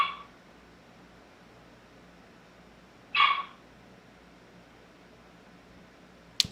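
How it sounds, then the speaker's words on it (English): A dog gives a few short, sharp barks, one clear bark in the middle and a brief one at the end, heard at a distance over steady background hiss. "You hear my dog? It never fails."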